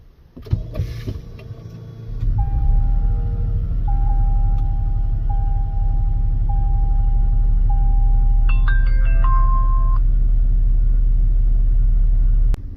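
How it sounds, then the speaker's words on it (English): A car engine cranks and catches, then settles into a loud, steady low idle rumble, with electronic dashboard chime tones sounding over it while the car is started after a dash cam installation. "Now let's go ahead and start up the vehicle."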